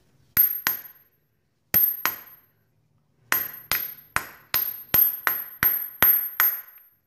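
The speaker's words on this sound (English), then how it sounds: "I'm just going to be using a bigger socket to hammer it in" Sharp metallic taps ring out as a socket hammers a seal into a Nissan power steering pump, in short groups, two, two, then a steady run of about eight strikes, each with a bright ringing tail.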